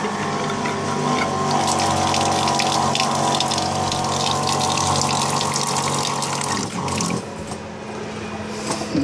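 A small camper's water pump, fed from a 3-gallon fresh water container, runs steadily as water gushes into a small sink, loud and continuous, with a brief dip in flow near the end.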